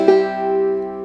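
Clawhammer banjo sounds an open second string followed by a brush thumb, one sharp strike that rings and sustains briefly, up close and alone.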